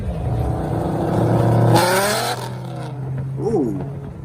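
A muscle car rolling in at a show, its engine throbbing with a choppy, uneven idle up close, a louder surge midway, with people talking over it.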